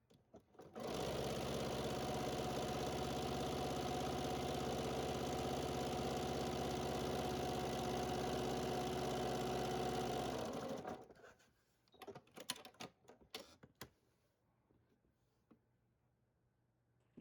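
A sewing machine stitches quilt fabric in a long, steady, loud run of about ten seconds, then stops, followed by a few scattered handling clicks and rustles.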